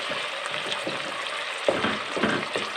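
Ginger garlic paste fries in a pot of oil for matar pulao, giving a soft steady sizzle with a few brief clinks and stirring sounds, close and moderately quiet.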